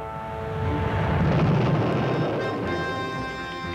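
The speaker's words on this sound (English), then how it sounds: "the Americans destroyed their cruise and Pershing missiles." Cold War-era cruise and Pershing missiles being destroyed, a deep, sustained rumbling blast with a broad roar that swells and slowly fades, loud and without speech.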